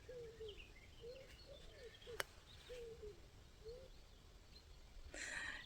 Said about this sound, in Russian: когда я выхожу на участок, я слышу это гуление голубиное